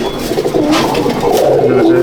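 Male pigeons cooing in a loft, overlapping throaty rolling coos close by and steady for the whole moment.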